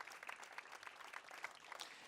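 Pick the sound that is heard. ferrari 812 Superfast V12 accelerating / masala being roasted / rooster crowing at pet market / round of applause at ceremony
round of applause at ceremony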